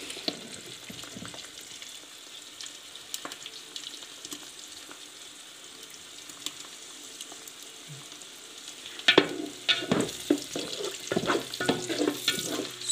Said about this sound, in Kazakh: 1 килограмм пияз қуырылып жатыр.